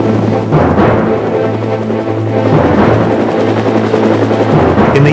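A Sikorsky S-65 heavy helicopter's rotors thump steadily with a loud, continuous pulsing drone that stays close and dominant throughout.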